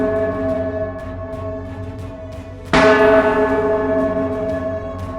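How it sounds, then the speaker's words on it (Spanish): Mournful iron church bells toll with a long ringing hum, then a heavy bell strikes loudly partway through and its deep tone lingers and slowly fades. "dolientes campanas de hierro."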